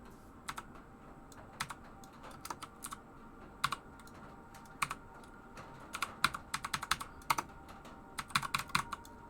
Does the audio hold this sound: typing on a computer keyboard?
yes